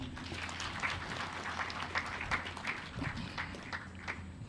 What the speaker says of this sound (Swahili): Tupige tena makofi.